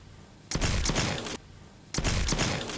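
Peacekeeper shotgun fired in a video game, two loud, close blasts about a second and a half apart, each with a booming body and a short rattling tail before cutting off.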